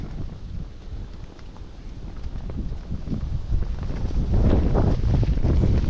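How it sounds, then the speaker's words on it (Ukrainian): Steady wind buffeting a microphone outdoors on a riverbank or lakeshore, a low rumbling roar that strengthens and grows gustier toward the end, with no voices. "Ще й вітер задуває."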